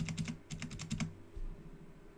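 Fingers typing a value on a computer keyboard, a quick run of about a dozen close key clicks in two short bursts, then quiet room noise.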